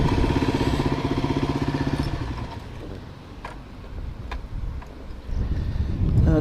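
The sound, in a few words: strong wind blowing into microphone beside motorcycle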